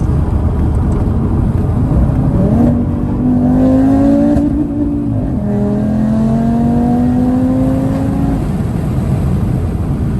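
Audi RS3 8Y with its OPF deleted, heard from inside the cabin under hard acceleration: a loud, continuous engine roar with rising pitch sweeps through two gear changes, filling the whole span with no talking.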